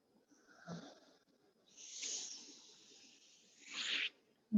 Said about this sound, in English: Nice, slow, big breath here.